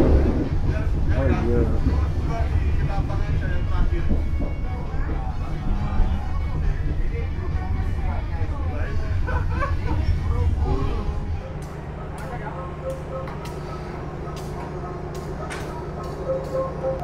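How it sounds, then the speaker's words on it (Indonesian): Probowangi passenger train pulling away from a station, a steady low rumble and drone that drops to a quieter hum partway through, with people talking over it. "kereta api Probowangi diberangkatkan kembali menuju stasiun"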